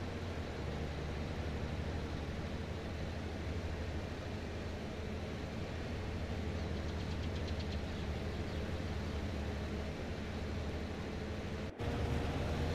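A mower engine in the Farming Simulator game drones steadily and loudly for the whole stretch. The sound is unbroken except for a brief dropout near the end.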